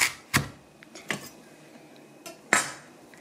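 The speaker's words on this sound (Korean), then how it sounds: "무를 일단 너무 크니까 반으로 잘라주세요" Knife chopping through a daikon radish on a cutting board, three sharp distinct knocks with small clicks between, close and dry in a quiet room.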